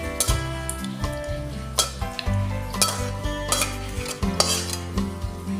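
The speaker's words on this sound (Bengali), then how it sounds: "আমি কুল বেগুন টমেটোর টকটা এরপর ঢেলে নিচ্ছি।" A sour dish of jujube, brinjal and tomato is poured and scooped from a metal pot, with repeated clanks and scrapes of utensil against cookware in an irregular rhythm, close and fairly loud.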